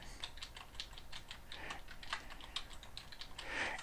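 Rapid, steady typing on a computer keyboard while entering membership types into club billing software, close and continuous clicking throughout with no talking.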